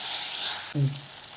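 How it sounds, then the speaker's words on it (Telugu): Spices crackle and sizzle in hot oil in a pan while masala for puris is cooked, a bright hiss that cuts off abruptly, followed by a short low hum and a quieter, fading sizzle. "పచ్చివాసన పోయేంత వరకు దూరగా వేయించుకోండి"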